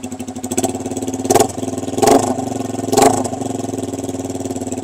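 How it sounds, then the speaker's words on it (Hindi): A Suzuki GS150 custom cafe racer with a straight pipe exhaust idles with a loud, rough, throbbing beat up close, broken by three short throttle blips that swell and fall back to idle. "बाइक बहुत ज्यादा लाउड है, टोटली स्ट्रेट पाइप है।"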